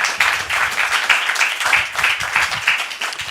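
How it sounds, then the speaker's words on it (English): A school board meeting audience gives a steady round of applause for an educator retiring after 40 years in the classroom, dense clapping sustained throughout at moderate loudness. "That in itself deserves a round of applause."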